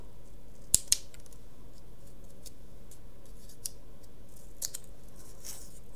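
Scissors trim paper hearts in a few sharp, quiet snips. A close double cut comes early, then softer single snips follow after pauses over a faint room background.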